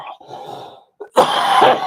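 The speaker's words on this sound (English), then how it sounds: "Or a dry cough." A couple of harsh, dry coughs burst out up close, following a brief quieter throat sound.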